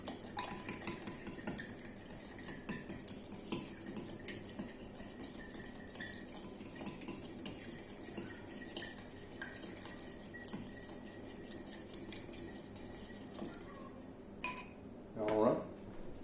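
Eggs are beaten in a bowl with a utensil, giving a run of quick clinks and taps against the dish. A person talks over the beating.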